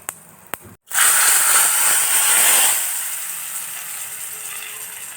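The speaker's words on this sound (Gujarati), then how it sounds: "વઘારમાં આપણે હિંગ એડ કરી દઈશું અને હવે કરી નાખશું વઘાર।" Hot tempering oil with asafoetida and curry leaves poured into dal for dal dhokli, bursting into a loud, steady sizzle after a couple of sharp clicks, then easing into a softer hiss.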